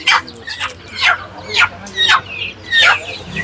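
Chickens clucking repeatedly in a close, irregular rhythm, native country fowl with young chicks in a farm setting, with faint background voices.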